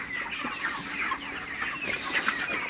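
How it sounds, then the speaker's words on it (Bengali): Broiler chickens cluck together on a farm, a continuous busy chorus of overlapping chirpy calls at moderate level, with no voices. "মুরগিগুলো আল্লাহর রহমতে খুবই ভালো আছে, সুস্থ আছে"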